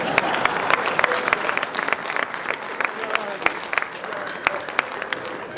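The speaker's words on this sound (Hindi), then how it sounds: "तालियां बजा सकते हैं।" Audience at a Hindi kavi sammelan comedy-poetry gathering breaks into sustained applause, dense clapping with sharp individual claps steady throughout, filling the hall at moderate loudness.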